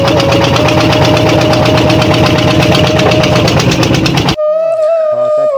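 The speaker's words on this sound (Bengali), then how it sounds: "এই দিক দিয়ে আর একটা বোট আসছে" A loud, steady boat engine drones with a rhythmic chugging throughout at Mukutmanipur, then cuts abruptly near the end to a different tonal hum.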